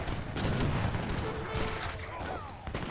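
Continuous crackling gunfire and booming cannon shots from an Age of Empires 3 battle, dense and overlapping across the whole stretch with no pauses.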